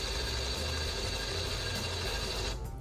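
Electric linear actuator running out to a 100 mm virtual limit: a steady mechanical whir with a fine ratcheting, gear-driven texture that holds throughout, then drops away near the end as the motor stops.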